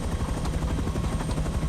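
Helicopter in the video game Rust, a steady, loud rotor thump with a pulsing low rhythm throughout and no talk.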